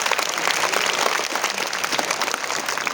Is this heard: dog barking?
no